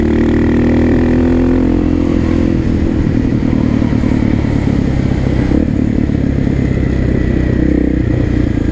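A KTM 660 SMC supermoto engine revs hard under throttle during a second-gear wheelie, loud and close, with a continuous rough roar and clattery mechanical texture throughout.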